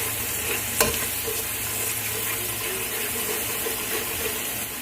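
Seafood dusted with garlic powder is stirred in a pan over a steady hiss of sizzling, with one sharp knock early on and then soft, continuous scraping and bubbling, close and moderately quiet.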